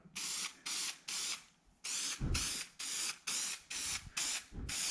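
Spray adhesive hisses onto a car headliner board in about ten short, even bursts, each a sharp close spray separated by brief pauses, with a faint rattle of the can between passes.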